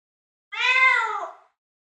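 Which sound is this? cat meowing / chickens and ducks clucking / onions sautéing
cat meowing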